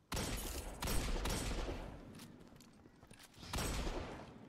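Shotgun fire in the online shooter Destiny 2, with a few broad, loud blasts spread across the stretch and busy in-game action between them. No talk is heard.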